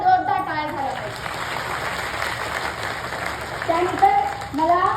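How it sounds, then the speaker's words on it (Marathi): Applause from a crowd at a Buddhist vihara, honouring the women who gave a welcome; a steady wash of clapping fills the middle, with voices calling out at the start and end. "त्या प्रत्येक महिलांसाठी एकदा जोरदार टाळ्या झाल्या पाहिजे."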